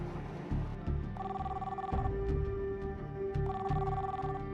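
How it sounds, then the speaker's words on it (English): A cell phone rings out with no answer, giving two even, steady ring bursts at low volume over a soft background hum. "On the highway to Bellevue, Tom keeps trying her cell phone"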